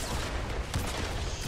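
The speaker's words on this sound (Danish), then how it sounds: "Shit, han har sådan en quad launcher der." Quad launcher firing in Fortnite, with dense booming rocket blasts and explosions filling the clip at close range, loud and continuous with a sharp burst near the middle.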